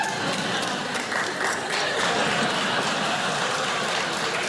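A television studio audience claps steadily, a dense continuous patter of many hands with a faint voice underneath.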